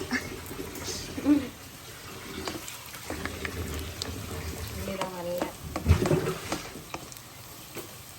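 Cashews fry in hot ghee in a pan for prawn biryani, giving a steady, close sizzle with a few louder stirring scrapes and no talk.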